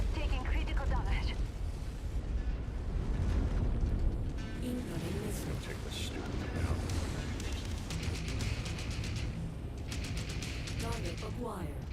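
Incoming missile strikes in MechWarrior 5: Mercenaries, a steady, heavy din of blasts and rumbling impacts with scattered sharp cracks, set under talk and cockpit voice alerts.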